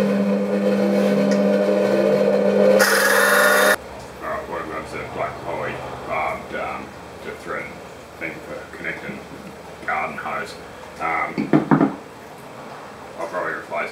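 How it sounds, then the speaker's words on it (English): An angle grinder takes the burrs off a nut on a jerry can fuel pourer, giving a loud, steady, whining grind for several seconds before it stops and someone talks over quieter shop noises. "So we'll take them off with the grinder and we'll go from there."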